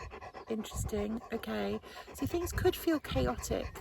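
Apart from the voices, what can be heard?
dog panting loudly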